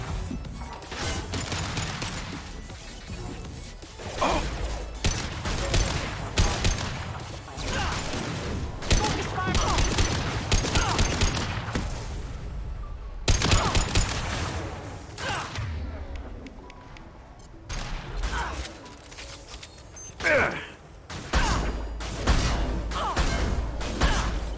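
Combat gunfire in the Mass Effect Legendary Edition video game, with dense bursts of shots, crashes and impacts layered over a loud, continuous battle bed, interrupted by brief lulls.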